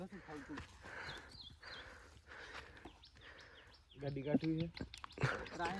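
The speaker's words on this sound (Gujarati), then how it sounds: "અને રાજદીપભાઈ બેસે છે ભાઈ ઘોડી માથે." A mare carries a rider on a farm, her hooves clopping softly at a walk amid birdsong, while people talk nearby and voices grow louder toward the end.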